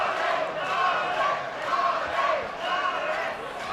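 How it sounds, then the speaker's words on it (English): A crowd at an MMA fight cheers and chants for a Polish fighter in swelling, rhythmic waves that fill the arena steadily. "the Polish got a big following, cheering Arek"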